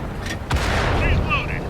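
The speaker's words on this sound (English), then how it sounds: "Ready to fire on target." A tank cannon fires in the World of Tanks video game, a single deep boom followed by rumbling battle noise and small electronic tones.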